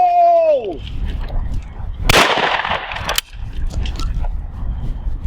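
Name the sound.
Miroku MK70 shotgun firing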